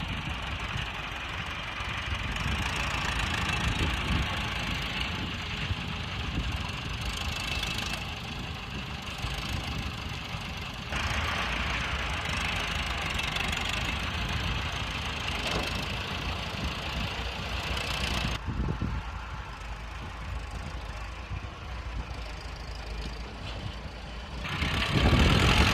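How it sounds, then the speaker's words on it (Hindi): A tractor engine runs steadily at a rumbling idle and mid revs while loading field soil into a trolley, close and continuous for the whole stretch, with no talk over it. "अब वो सामने ट्रैक्टर ट्राली चल रहे हैं, वो मिट्टी लोड कर रहे हैं।"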